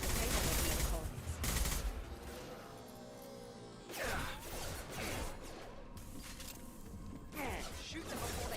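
Distant battle in the Mass Effect 2 game: bursts of gunfire and crashing impacts come and go in waves, fairly faint, with someone talking over parts of it.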